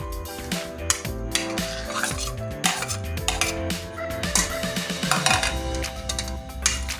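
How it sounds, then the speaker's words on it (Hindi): Raw chicken being mixed with red chili powder and spices in a bowl for chicken tikka shawarma, giving steady clinking and scraping of a utensil against the dish with wet stirring throughout, close and fairly loud. "चिकन को अच्छी तरह मिक्स करके,"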